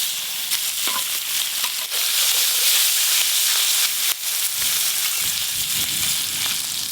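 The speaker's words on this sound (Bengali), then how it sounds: "এবার ট্যাংরা মাছগুলো ভেজে নেব।" Tangra fish frying in hot oil, a loud continuous sizzle and hiss with spitting bursts, close up and steady throughout without talk.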